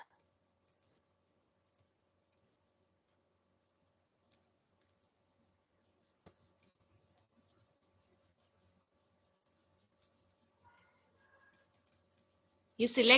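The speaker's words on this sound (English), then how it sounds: "this table by double clicking on it and click on resize image" Computer mouse clicks while double-clicking to select a table in a translation tool: sparse, sharp little clicks scattered across a quiet room, with a short burst of louder noise at the very end.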